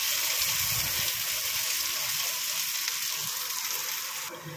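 Ginger and masala frying in a pan with a constant loud sizzle and hiss, broken by a few soft scraping stirs, with the sizzle easing slightly toward the end.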